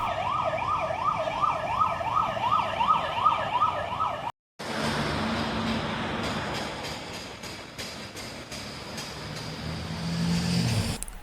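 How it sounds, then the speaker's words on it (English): A wailing siren rises and falls in a fast, regular cycle, then cuts off abruptly, leaving busy street noise and a passing rumble in the Plaza de Africa, Ceuta. "as the sirens go off"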